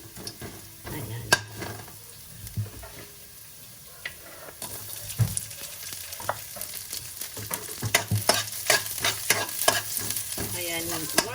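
Garlic and ginger sizzle steadily in a hot pan while a utensil scrapes and stirs them in irregular clattering strokes. A brief splash of water sounds near the middle, and the frying gets busier toward the end.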